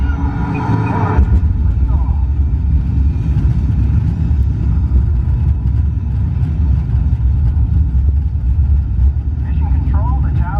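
A deep, loud, continuous engine rumble from the simulated rocket launch on the Mission Space ride at Epcot fills the scene, with a voice heard briefly at the start and again near the end.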